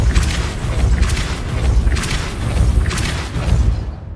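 Repeated Depulso force-push spell blasts in Hogwarts Legacy, a steady run of loud booming thumps and whooshes pulsing about once a second, close and with no talk.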